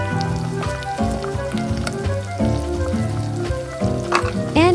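Chicken adobo sauce with oyster sauce, sliced potatoes and saba banana bubbles and sizzles steadily in a pan, a dense, close cooking hiss with occasional utensil clinks, loud and without speech.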